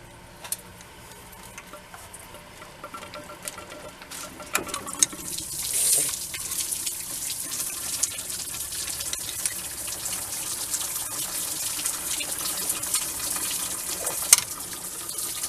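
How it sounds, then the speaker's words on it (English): Water poured from a container into a car's cooling system during a water pump and thermostat replacement, a steady close splashing and gurgling flow with no talk. "I just put that gallon in there and then fill it up with water, whatever's left."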